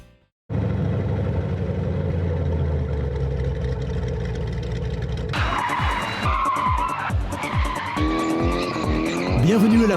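A drift car at the Athens Motor Show drift tuning display roars with engine and long tyre screeches, then bursts of squealing skids and revving follow in quick succession, loud and close with crowd noise beneath.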